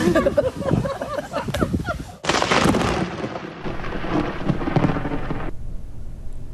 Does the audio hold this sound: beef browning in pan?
no